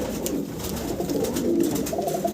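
A large flock of fancy pigeons, including satin breeds, coo together in a loft, a continuous overlapping murmur of soft throaty calls close by, with a few clearer coos rising near the end.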